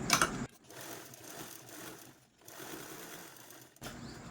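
A sewing machine runs a double line of stitches over a blouse cross-strip in short, quiet bursts, with a soft mechanical whir and brief pauses between runs.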